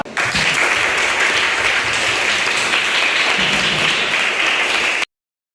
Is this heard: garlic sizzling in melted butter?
no